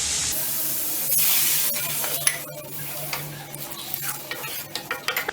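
About 300 ml of water pours and splashes into a hot pan with curry leaves and vegetables for ragi soup, hissing and sizzling steadily, followed by scattered clinks and light stirring taps.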